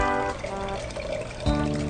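Cold water poured into a chocolate drink after two scoops of powder, a steady close pour with a rising trickle and a brief louder splash near the end.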